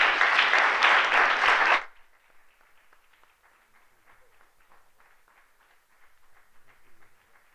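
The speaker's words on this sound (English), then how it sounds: "can we have a round of applause for our panelists for giving their time?" An audience applauds the panelists at a talk on a contemporary African art magazine, a dense burst of clapping for about two seconds before it drops to a few faint scattered claps.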